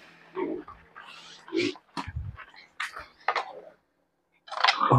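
Pigs in a covered pen grunting and oinking in short irregular bursts, fairly close, with scattered clicks and rustling between the calls.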